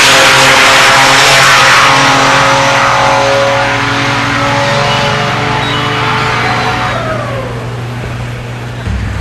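Buick Stage 2 cars, one big block and one turbocharged, launching side by side at a drag strip, a loud sustained engine roar that rises in pitch and then fades slightly as they pull away.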